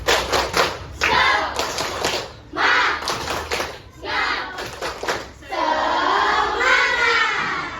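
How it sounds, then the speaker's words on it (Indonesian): A grade 6 class in a civics lesson performs the 'tepuk semangat' clapping chant, rhythmic bursts of group clapping alternating with children chanting together, loud and close in a classroom. "Tepuk semangat."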